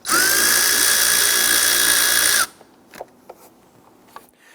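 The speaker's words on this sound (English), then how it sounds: "We're going to use our 5/16 socket. Loosen and remove that." A power tool drives a 5/16 socket on an intake hose clamp of a Jeep Grand Cherokee 3.6L V6, whirring loudly and steadily for over two seconds before stopping, followed by a few faint clicks.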